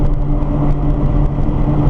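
A Nissan GT-R engine drones loud and continuous while accelerating on a race track, heard up close with a steady low roar and no talk.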